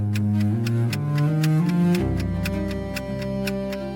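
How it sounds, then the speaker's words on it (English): Steady ticks of an old clock in a quiet house repeat at an even pace over a droning tonal bed that shifts pitch midway, with no voices. "The ticking, it's like a countdown."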